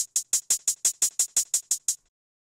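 Drum and bass hi-hats run through an LFO-modulated effects chain, a steady train of about a dozen bright, sizzling closed hits with slight variation from hit to hit, close and alone, ending abruptly.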